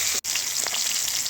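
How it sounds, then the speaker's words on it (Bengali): Fish pieces fry in oil in a pan for a Bengali macher tok, giving a loud, steady, close sizzle with a brief dropout near the start. "লাল লাল করে এক পিঠ ভাজা হয়ে গেছে, আর এক পিঠগুলো উল্টে দিয়েছি।"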